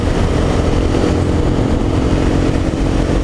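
A 2015 Honda CBR 300R motorcycle at speed gives a loud, steady engine drone close up, blended with heavy wind rush, continuous and unbroken with no talking.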